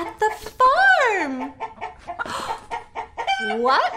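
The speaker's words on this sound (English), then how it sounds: "A chicken makes that sound." A farmyard chicken clucks and squawks loudly up close, with several rising, drawn-out calls broken by short staccato clucks in an irregular rhythm.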